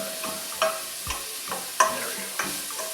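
Shrimp curry ingredients with garlic fry in a pan, giving a soft steady sizzle with a few sharp stirring clicks and scrapes spaced about every half second, close up with no talking.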